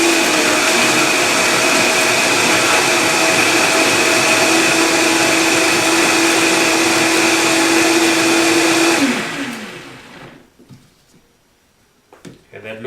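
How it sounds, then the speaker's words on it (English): A kitchen blender blending curried butternut squash soup runs loud and steady on high for about nine seconds, then winds down and stops, followed by faint rattles and quiet handling sounds. "Make sure your blender is on low. And when you flip it onto the power on"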